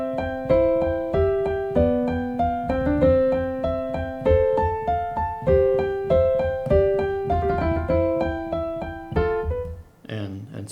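A Mozart sonata on piano with the right- and left-hand parts swapped, so the melody sits low and the accompaniment sits high, played steadily and close, then cut off abruptly by a brief noise at the end.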